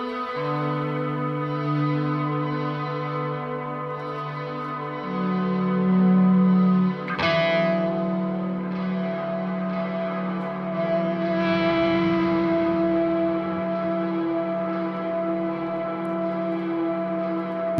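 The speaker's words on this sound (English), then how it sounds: "Ambience with crazy amounts of distortion is a little bit different though" Sustained droning ambient tones drenched in heavy distortion, with a sharp crunchy hit midway and layered buzzing harmonics continuing throughout.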